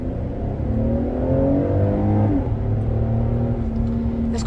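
A Kia car accelerating hard from a rolling start, its engine note climbing steadily and loudly up close with a continuous rising drone and no talking.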